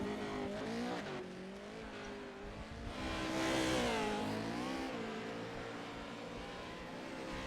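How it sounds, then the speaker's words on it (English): Pro 2 Lites racing trucks on a dirt track at Bark River, engines revving and rising in pitch as they pass, moderately distant with a swelling surge midway through. "this is the slowest of the trucks"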